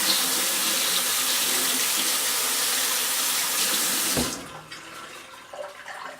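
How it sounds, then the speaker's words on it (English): Water runs steadily from a tap as a glass piece is rinsed, a loud continuous splashing rush that stops abruptly after about four seconds, leaving a few faint drips and clinks. "I'm going to rinse again."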